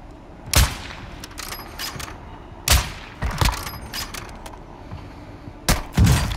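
Gunfire in a video game arrives as sharp, separated bursts of shots, loud and close, with a short volley near the start, more in the middle, and a pair near the end over a quiet background.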